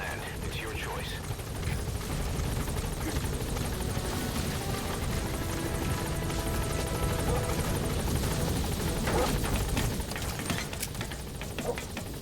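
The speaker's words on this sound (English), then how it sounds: "Support helicopter has arrived." Support helicopter in Metal Gear Solid V: The Phantom Pain arrives at a landing zone, a steady loud rotor roar that fills the whole stretch, with faint gunfire and a voice talking over it.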